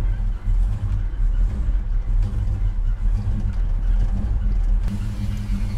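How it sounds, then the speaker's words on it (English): A 1965 Chevy Malibu SS with a 502 engine shifts into gear and pulls away, its deep, loud rumble steady throughout with a brief surge of revs near the end; no one speaks. "Let's put it in gear, and we'll take it to our"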